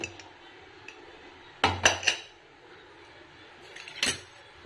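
A metal lid comes off a pot of cooked leafy-greens dal with a quick cluster of sharp clinks and clatters, then a single clink follows a couple of seconds later over a quiet room.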